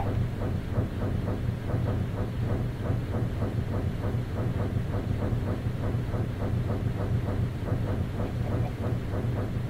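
A train runs along its track in a railroad-building video game, giving a steady rhythmic clatter over a low rumble, constant and moderately faint with no voices.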